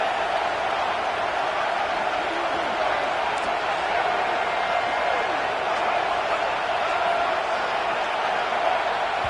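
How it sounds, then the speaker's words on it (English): Steady roar of a packed stadium crowd in a college football video game, a continuous dense wash of noise holding at the same loud level throughout, with no distinct cheers standing out. "And with this place rocking, the crowd forces a false start"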